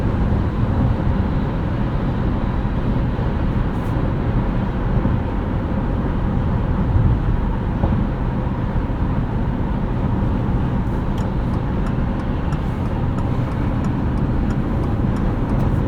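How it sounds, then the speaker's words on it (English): A 2025 Subaru Forester Sport cruising on the highway, heard from inside the cabin as a constant, fairly loud broadband rumble of road and tire noise with no voices. "There is still a little bit of road noise in this car."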